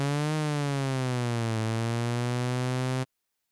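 U-he Zebralette synth tone with MSEG pitch modulation, a bright, buzzy sustained note whose pitch swoops up and down about three semitones each way, heard alone for three seconds before stopping abruptly.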